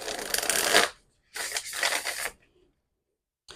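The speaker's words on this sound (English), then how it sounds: "that shuffle was kind of rickety, but it all came together in the end" A deck of cards is shuffled in two loud riffling bursts with a brief pause between them, a fluttering papery rush close up, then quiet and a short final snap.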